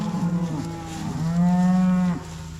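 Cattle low and moo during a drive between pastures, several close, overlapping calls, the longest a drawn-out bellow about a second long, with no talk in between.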